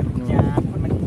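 Strong wind buffets a phone microphone outdoors while fishing, a rough, gusty rumble rising and falling for about a second.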